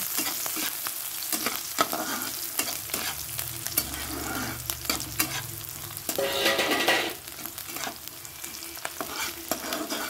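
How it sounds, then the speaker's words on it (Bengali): Onions fry in a pan while being stirred, a continuous crackling sizzle punctuated by repeated scraping strokes of a spatula, with a brief louder burst of hissing midway; close and unaccompanied by talk. "এটা পেঁয়াজটা একটু ভেজে নিই সুন্দর করে।"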